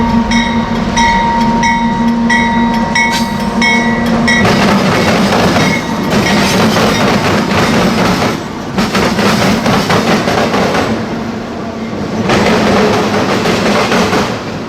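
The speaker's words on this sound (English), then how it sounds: "The entire tower vibrates as trains assault the diamonds" A train rumbles loudly over a rail diamond crossing beside a tower, wheels pounding and clattering over the crossing joints in heavy bursts, with a sustained horn-like tone at the start.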